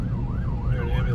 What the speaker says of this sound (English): There an ambulance comes driving by us.